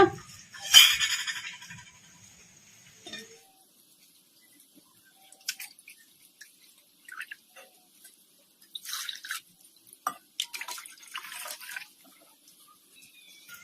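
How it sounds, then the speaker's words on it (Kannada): Buttermilk poured into a spiced masala, heard as a short, clear liquid splash and trickle early on, followed by faint scattered drips and light clinks of a utensil in a quiet kitchen. "ಈಗ ಮಸಾಲಾಗೆ ಮಜ್ಜಿಗೆ ಹಾಕೊಂಡ್ಬಿಟ್ಟಿವಲ್ಲ"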